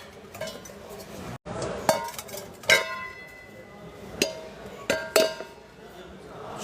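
Copper pots handled at a market stall, giving several bright metallic clinks and ringing knocks at irregular intervals, close and fairly loud, with background chatter and bustle.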